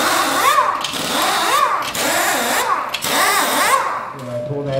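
Pneumatic impact gun working lug nuts during a race tire change at Daytona, repeated short whirring bursts with crew voices shouting over the busy pit noise.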